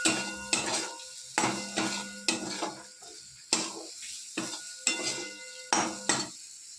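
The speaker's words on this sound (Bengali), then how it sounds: "দিয়ে একটু নাড়াচাড়া করে নেব" A spoon or spatula scrapes and stirs radish filling in a pan for kachori, about ten sharp, evenly spaced clattering strokes with a faint sizzle between them and no talking.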